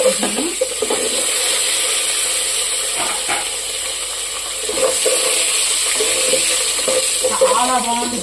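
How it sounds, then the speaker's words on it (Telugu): Cashew nuts sizzle in hot oil alongside curry leaves, a loud continuous hiss and crackle close by with occasional stirring clinks and a faint voice near the end. "జీడిపప్పు కూడా వేసుకుంటున్నాను."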